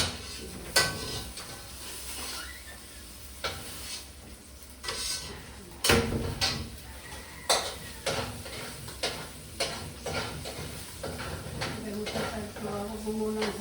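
Chopped garlic sizzling in a pan of oil while a utensil stirs it, with scattered sharp scrapes and clinks against the pan over a steady low fry.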